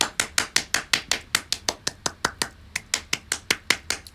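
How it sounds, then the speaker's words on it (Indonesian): Audience applause at an online idol live show, a run of sharp, evenly spaced hand claps close up, about five per second and steady throughout. "Tepuk tangan."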